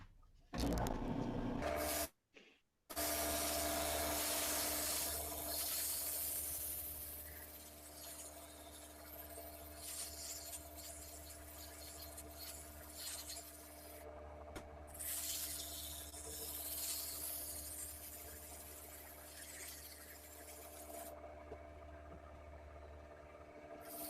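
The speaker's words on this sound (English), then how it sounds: "I'm only sanding with the lathe running about 300 RPM." Steady broadband rubbing and hiss of sandpaper against wood spinning on a lathe at about 300 RPM, with a constant low motor hum underneath, continuous throughout.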